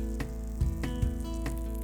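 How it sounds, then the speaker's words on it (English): Tuna sizzles in a hot pan over a fire, a steady close frying hiss with a few soft pops and stirring thumps, no talking. "that's the sound we're looking for, that nice sizzle as that hits the pan"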